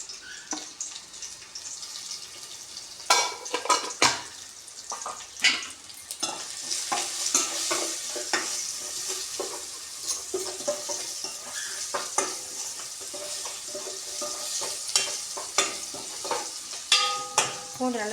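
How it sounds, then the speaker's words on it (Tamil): Garlic frying in a pan for rasam, a continuous close sizzle with frequent sharp spatters and stirring clatters, with water-like hiss in the background. "நல்லா சிவக்க வறுத்துங்க பூண்டை."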